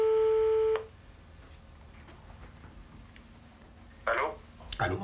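A telephone line tone sounds steadily at the start while a call to the police is placed, then cuts off, leaving quiet room noise with a couple of short clicks and rustles near the end.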